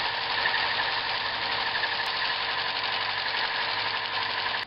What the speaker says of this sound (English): I'm just going to do that on the belt sander.